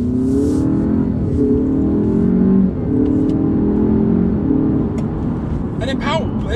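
An Alfa Romeo Giulia Veloce pulls hard through its gears, with engine tones climbing and stepping down at each shift. The engine noise is loud and steady under a speaking voice throughout.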